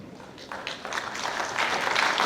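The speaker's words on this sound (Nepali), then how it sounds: "प्रसन्न मनका साथ खुला हातले हामी ताली बजाइरहेका छौँ।" An audience applauds during a speech by Nepal's Prime Minister KP Sharma Oli. The steady clapping swells in loudness toward the end.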